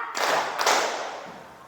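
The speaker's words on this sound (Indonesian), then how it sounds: "Tepuk 2." Two loud, close claps from a classroom of pupils clapping together on the teacher's count, the second following quickly after the first, then a fading tail.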